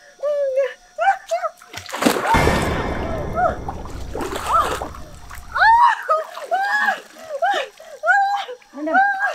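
Water splashes loudly as a person sick from black magic is pushed down and soaked in a tub, bursts of sloshing under raised, urgent voices talking close by.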